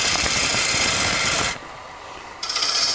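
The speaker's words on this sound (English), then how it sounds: "that's what I'm aiming for now, doing it with pull cuts" A long-ground bowl gouge makes pull cuts on a wood lathe, giving a dry, rasping scrape against the spinning wood. The scraping stops briefly partway through, then resumes.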